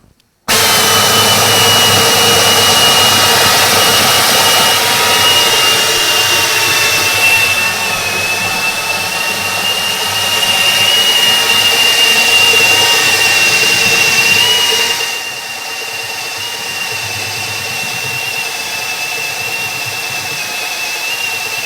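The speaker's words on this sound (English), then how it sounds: "we're gonna drill our last hole here" A power drill whines steadily and loudly drilling a hole for a radiator shroud and fan assembly, a constant high motor tone over broad grinding noise, dipping slightly partway through.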